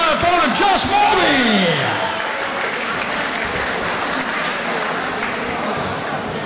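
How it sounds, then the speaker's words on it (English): An MMA event crowd applauds and cheers for the fighters, loud sustained clapping and whoops filling the arena while an announcer's voice rings out at the start. "Put your hands together for Gareth Bowen and Josh Morby."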